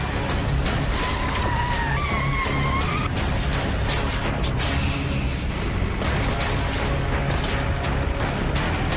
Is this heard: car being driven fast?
yes